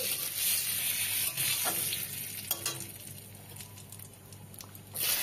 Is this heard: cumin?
yes